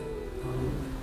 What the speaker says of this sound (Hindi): विंड की जो स्पीड है ना कुछ ज़्यादा ही बढ़ गई है, एंड हवा की जो आवाज़ है